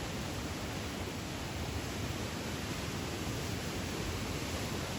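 Floodwater of the Ravi River rushes out through the Head Balloki barrage in a loud, unbroken roar of hiss that holds evenly throughout, with no voices over it.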